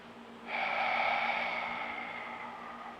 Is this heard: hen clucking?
no